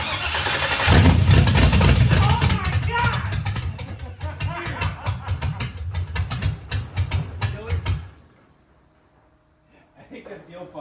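A 1969 Camaro restomod engine revving hard with a suspected fuel-starved pump, loud and close, a sustained roaring rise that breaks into rapid stuttering pulses before cutting off abruptly, then a brief faint noise at the end.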